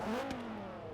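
Car engine in the racing game Forza Horizon 3 starting up and revving, a rising then settling engine tone, moderately loud and alone with no talk.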